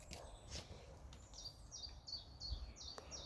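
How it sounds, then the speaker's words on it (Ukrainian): Birds chirp and trill outdoors, a repeated bright call sounding in short bursts over quiet background ambience. "як співають пташки гарно"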